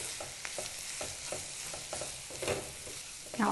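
Ivy gourd curry being stirred with curry powder in a pan: a quiet continuous sizzle broken by repeated scraping strokes of a spoon against the pan, irregularly spaced and close, with a louder scrape near the end and no voices.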